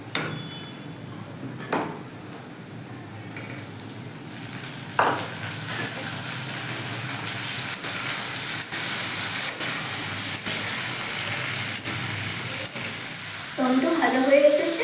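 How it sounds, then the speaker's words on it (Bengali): Chopped tomatoes fry with browned onions in a pan for yoghurt chicken, giving a steady close sizzle with occasional spoon scrapes and stirring knocks. Utensil clatter rises near the end. "পেঁয়াজগুলো লাল লাল করে ভাজা হয়ে এসেছে, এতে আমি দিয়ে দেবো টমেটো কুচি।"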